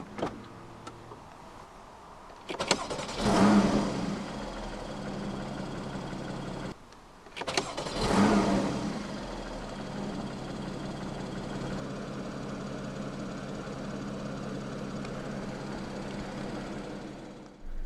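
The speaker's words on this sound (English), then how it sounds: "To start the Boxster S, put your foot on the brake, insert the key fob into the slot right here, and then just flick the key to the right." A 2014 Porsche Boxster S (981) flat-six cranks and fires twice in a row, each start flaring loudly before settling into a steady, even idle that runs on alone for many seconds.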